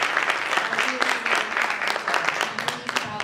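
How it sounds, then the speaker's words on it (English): A graduation lecture audience gives another round of applause, a fairly close, uneven patter of many hands clapping throughout the short stretch. "We need to give them another round of applause."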